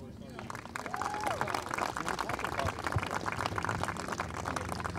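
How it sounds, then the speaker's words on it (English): Audience clapping fills a room at an event honoring table arrangements, a dense steady patter of many hands lasting throughout, with scattered voices and crowd murmur mixed underneath. "give her another applause"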